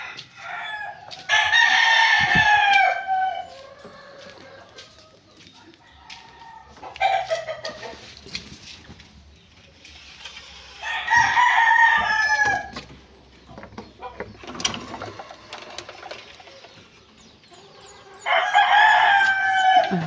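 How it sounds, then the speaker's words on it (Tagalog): Neighbors' chickens and roosters near a house crow loudly in four separate bursts, with quieter clucking and rustling in the gaps between calls. "Yun yung mga manok nila na may ingay dito."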